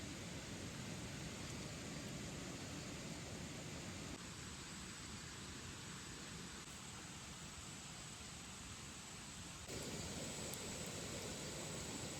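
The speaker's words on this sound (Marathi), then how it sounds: "पाऊस आहे ना रिमझिम रिमझिम चालू आहे" Soft, steady drizzle hisses continuously in the distance at a night campsite, faint and unbroken throughout.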